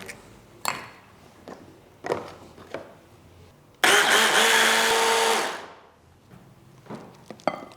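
An electric blender chops a piece of baguette with some crust on it, making a loud, close whirring burst of about two seconds. Scattered knocks and clatters from the kitchen come before and after it.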